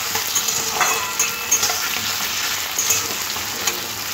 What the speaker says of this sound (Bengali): এবার সমস্ত কিছু একসাথে খুব ভালো করে ভেজে দিতে হবে।